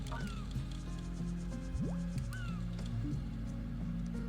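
A bird in the video game Endless Ocean gives a few brief calls, some rising and some squeaky. They sit faintly over a steady low humming ambience.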